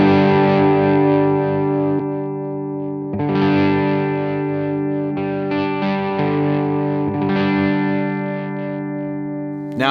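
Electric guitar through a KarenX fuzz pedal prototype with its tone stack switched out, playing loud, thick, buzzy distorted chords that ring out in sustained phrases separated by brief breaks.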